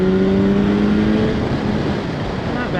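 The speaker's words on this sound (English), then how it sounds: "I'm gonna go downshift to fifth and then just whack it a little bit." A 2016 BMW S1000R motorcycle downshifting and accelerating, a loud close engine roar that drops in pitch as it shifts, then a dense rush of engine and wind noise.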